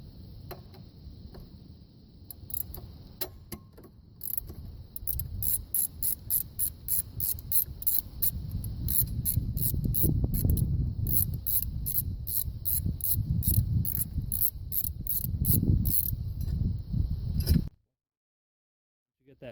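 A ratchet clicks in quick repeated bursts while a 12 mm bolt is backed out during alternator work on a Subaru H6 engine. The clicks stay fairly close over a low rumbling background, then stop abruptly.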